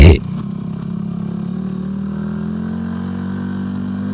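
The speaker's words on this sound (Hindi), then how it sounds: "कुछ ही दूर जाने के बाद अचानक बाइक का टायर फट जाता है।" A sharp bang opens a motorcycle sound effect for a burst bike tire, followed by a steady, close engine drone with a low rumble that holds evenly to the end.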